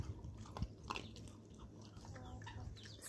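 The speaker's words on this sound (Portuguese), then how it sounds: "Tá comendo aqui uma cabecinha de sardinha" A dog eating a sardine head and fish bones at lunchtime, giving faint, close crunching and wet chewing bites with a few sharper cracks, set against quiet background noise.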